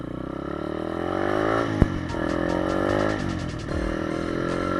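A dirt bike engine running steadily in gear while being ridden, a loud, continuous motor drone with a sharp clack partway through and a slight rise and dip in pitch.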